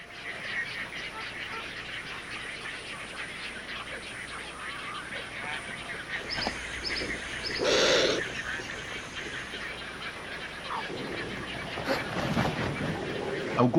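Many birds, geese and ducks among them, honk and call around shallow river pools where piranhas are trapped, a steady wash of calls with one louder burst partway through, moderately distant.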